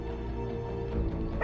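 A hellhound in Marvel's Midnight Suns gives a close, low, sustained growling bark with whining tones, heard alone in a short burst.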